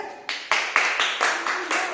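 A class of schoolchildren in an Indian school claps in unison, with a steady, even beat of loud group claps close by, each clap spaced about a quarter second apart.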